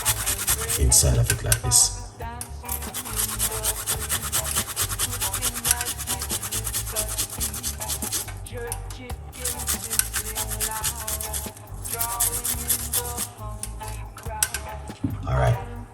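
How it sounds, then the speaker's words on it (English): A small piece of ginger is rubbed against a grater in a kitchen, a steady rasping scrape running continuously under background music, with brief spoken remarks. "grate a nice little piece of a ginger"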